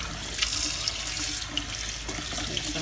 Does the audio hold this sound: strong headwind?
no